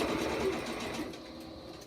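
A sewing machine runs steadily while stitching a seam across the pleats of a fabric face mask, producing a continuous close, moderately quiet mechanical whir that tapers slightly toward the end.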